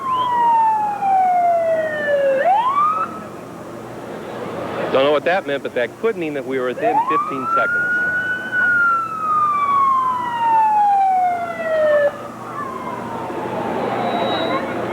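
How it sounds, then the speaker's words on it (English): A warning siren before a hotel implosion wails, rising and falling in long sweeps, loud and carrying over a crowd of hundreds, with someone talking over it midway. "Yep, another siren"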